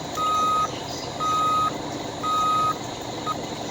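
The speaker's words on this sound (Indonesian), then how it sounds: "Oke, lanjut untuk sound mundur." Hino bus reverse warning, four evenly spaced electronic beeps sounding alone over a low idling engine.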